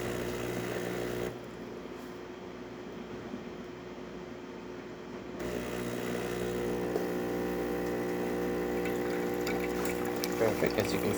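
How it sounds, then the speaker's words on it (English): Saeco espresso machine brewing coffee after a full tune-up, a steady close mechanical pump drone with a humming tonal whine, shifting in level partway through as liquid runs into the cup. "As you can see, machine is now brewing up coffee."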